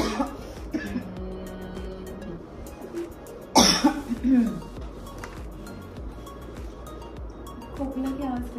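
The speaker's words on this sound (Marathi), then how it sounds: "खोकला की आवाज खराब होतो." A single loud, close cough bursts out partway through, with people talking before and after it and a few light clinks in the background.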